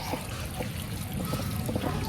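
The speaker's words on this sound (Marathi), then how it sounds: "मित्रांनो हे बघा पाणी मारायला घेतलं घराला." Water spraying against a village house wall under renovation, a steady hissing splash that runs continuously at close range throughout, with no talk over it.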